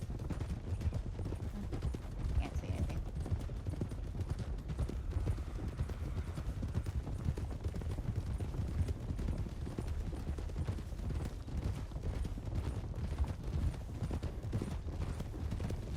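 Steady, rhythmic clip-clop of horse hooves in a video game runs throughout, even and close, with a faint game-like ambience and no talking.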